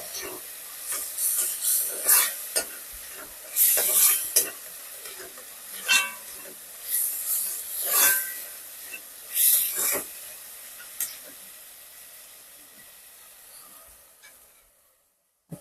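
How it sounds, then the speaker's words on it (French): Tomato simmering in a pan on low heat for a peanut sauce with dried fish, crackling and sizzling in bursts with stirring scrapes, close and fairly soft, fading toward the end. "je laisse la tomate bien mijoter là"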